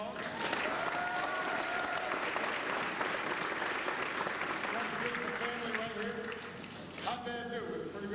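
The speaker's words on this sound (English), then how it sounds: "Give Ben a big round of applause." Sustained applause from a large audience at Michigan State University in East Lansing, a steady dense wash of clapping with crowd noise running the full length at an even, fairly loud level.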